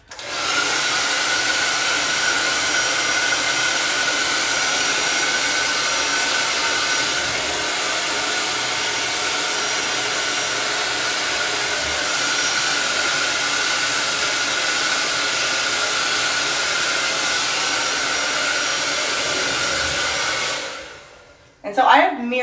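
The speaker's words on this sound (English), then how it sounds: "Got my blow dryer." A handheld blow dryer drying hair runs at a loud, constant whooshing roar for about twenty seconds, then cuts off abruptly near the end, followed by a brief rustle.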